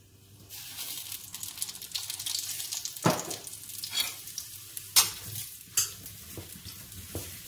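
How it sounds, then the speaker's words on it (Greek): Mushrooms sauté in olive oil in a 3.5-litre pot, with a steady sizzle and several sharp spoon scrapes and clinks against the pot, fairly close and without talk. "Και τα τσιγαρίζουμε."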